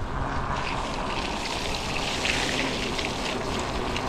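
Rain falls steadily on a ride along wet, sealed roads in rainy Nicosia, a constant hiss of spray and rushing water with no talk over it.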